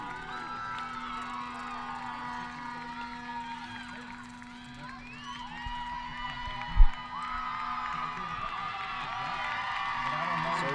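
Crowd noise at a high school boys soccer semi-final between Searcy and Van Buren, a broad cheering swell in the stands with one sharp thump, while a commentator talks over it.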